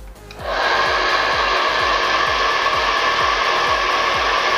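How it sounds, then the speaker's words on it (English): A heat gun blows hot air onto heat shrink tubing over paracord, starting abruptly and holding a loud, steady, close-up roar with a rhythmic low pulsing beneath it, and no voices. "heat the heat shrink up so it's fixed in place"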